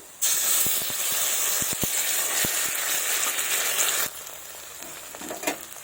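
Ground paste of dried red chilli, ginger, cumin and garlic hits browned onions in a pan for a goat fat and pea dish, bursting into a loud close hiss and sizzle with sharp utensil clicks, easing slightly toward the end without talk.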